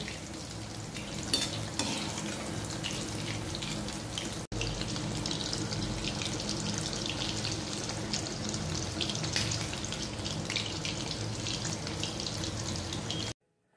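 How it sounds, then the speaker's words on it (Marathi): Prawn bhaji fritters fry in hot oil in a kadhai, five or six at a time, with a loud, continuous crackling sizzle that carries on steadily and stops abruptly near the end. "पाच ते 6 भजी कढईत एका वेळी घालून आपण ती तळून घेणार आहोत।"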